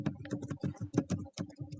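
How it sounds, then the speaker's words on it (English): Rapid clicking of keys on a computer keyboard, close and steady in short even strokes, fairly quiet, with no talk over it. "Are you like typing right now to try and find it?"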